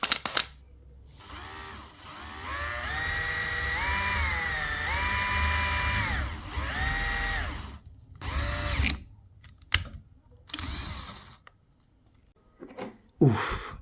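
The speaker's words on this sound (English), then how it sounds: "I'm going to use a drill of 6 millimeters" A 6 mm power drill boring out a small plastic lens on a model M16 halftrack runs in several whining bursts, one long steady run and shorter stop-start pulses with quiet gaps between, close and loud.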